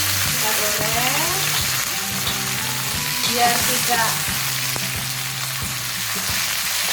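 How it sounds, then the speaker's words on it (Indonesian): Chili peppers and garlic fry in roughly two or three spoonfuls of hot oil, giving a loud, steady sizzle with stirring scrapes and small pops throughout while a voice speaks briefly. "Panaskan minyak kurang lebih 2-3 sendok untuk menggoreng cabai dan bawang putih."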